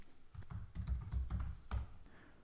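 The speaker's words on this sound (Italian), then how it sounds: "posso su un qualsiasi motore di ricerca digitare Smart Exchange" Typing on a computer keyboard, a close run of soft rapid key clicks and taps in uneven bursts with no voices.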